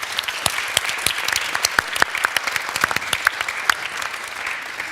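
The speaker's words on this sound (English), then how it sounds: "A warm applause for our wonderful panel." Warm audience applause for a panel at a TEDx salon event, a dense patter of many hands clapping close and steady for the whole stretch, with sharper individual claps standing out and no talk over it.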